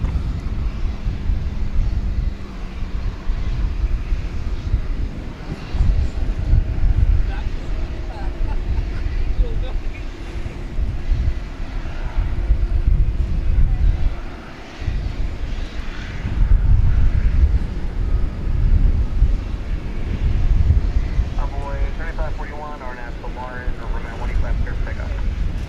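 A Boeing 737-800 airliner at DFW Airport at night, a broad jet roar rising and swelling under gusty wind, with a person talking over it.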